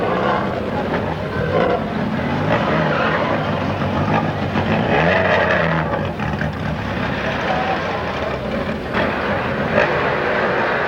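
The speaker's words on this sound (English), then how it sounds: "The others follow in quick succession as the cars speed off into the night." 1970s rally cars speed off from a night stage start on the RAC or San Remo rally, their engines a loud, continuous roar that swells and fades slightly as they pass.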